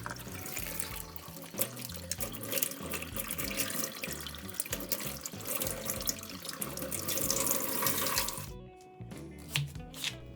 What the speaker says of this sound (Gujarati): ચાર થી 5 લીલા મરચાં, 3 ડુંગળી, 2 ટમેટા ને ધાણાને ધોઈ લેશું.